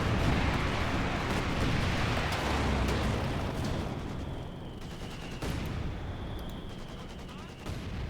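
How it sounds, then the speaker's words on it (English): Machine gun fire amid heavy battle noise in Company of Heroes 2, dense continuous gunfire and explosions with sharp cracks throughout, loud and busy, with a voice talking over it. "Machine gun there, blazing hot fire to the advancing Soviet troops."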